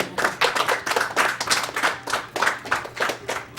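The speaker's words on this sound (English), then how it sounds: "I was just clapping" Rapid hand claps in an irregular rhythm, close and fairly loud, at a charity speedrunning marathon.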